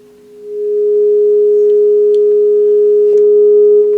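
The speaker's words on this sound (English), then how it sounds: "Do a quick check with the signal generator, which I've got over there." A steady sine test tone from a signal generator fed into a 1971 WEM ER40 amplifier swells in within half a second and then holds loud and constant, with faint clicks and no speech.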